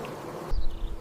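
Honeybees buzzing inside a hive, a dense close hum that swells suddenly louder halfway through, with no voices.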